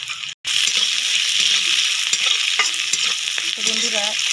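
Shrimp stir-fried in a pan with onion and green chili for a Bengali saag chorchori, a loud continuous sizzle after a brief gap, broken by spatula scrapes and clinks.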